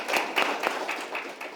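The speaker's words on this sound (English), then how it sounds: "Can we have a round of applause" A small audience at an authors' forum claps in a light, scattered patter, fairly quiet and slightly distant, with no voices over it.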